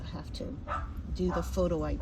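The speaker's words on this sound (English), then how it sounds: "That's my neighbor's dog barking." A neighbor's dog barks and yips in a few short bursts at a distance in a garden, partly under a nearby voice.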